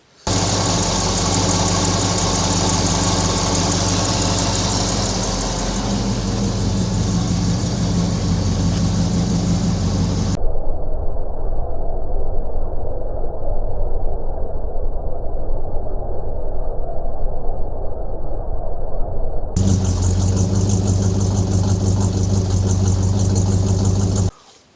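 A Chevrolet C10 truck engine idles steadily through a VEVOR universal exhaust pipe kit, with a deep, continuous rumble and throb that stays loud and even for the whole stretch. Its tone shifts partway through as if heard from a different position.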